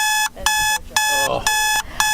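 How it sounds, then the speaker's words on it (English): An old-school alarm clock rings loud and near in rapid repeated bursts, about five clanging pulses with short gaps between them; no one speaks. "who remembers that annoying old school alarm clock, right?"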